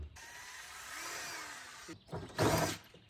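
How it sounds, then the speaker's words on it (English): A power drill whirs steadily for a couple of seconds, then stops, during a Bombardier NEV rebuild after bumper removal. A short clatter and a brief louder burst of noise follow, all fairly faint. "Marcus, can you give me the drill?"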